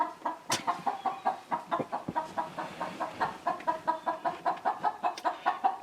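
A chicken clucks in a rapid, regular stream of short calls, close by in a garage, with a few sharper squawks mixed in.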